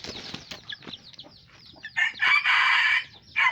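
Chickens cluck in short scattered calls, then a rooster crows loudly and close, a long sustained cry followed by a shorter one, with no talking.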